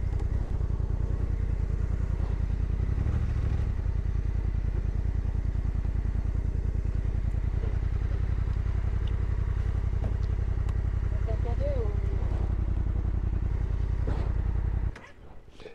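A 2025 BMW R 1300 GS motorcycle idles and rumbles steadily close by for about fifteen seconds before the engine cuts off abruptly, leaving quiet.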